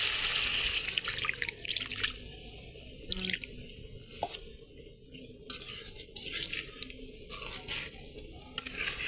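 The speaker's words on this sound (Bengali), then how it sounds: "সামান্য পরিমাণে একটু পানি দিই।" Water poured in a small amount into a pan of fish curry with thick-cut tomato, a steady trickling splash running close up for several seconds with no talk.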